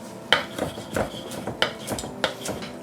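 A knife roughly chopping fresh coriander stalks on a board, giving a series of irregular, fairly close taps and knocks with no voices.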